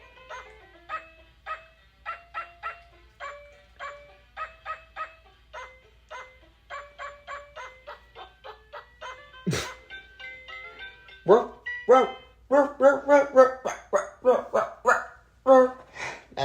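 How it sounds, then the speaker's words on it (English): An electronic toy dog sings Bingo in a bright, synthetic electronic tune, a steady run of short rhythmic yips and notes that grows louder and busier toward the end, with a brief burst of noise partway through. "Listen to the dog sing."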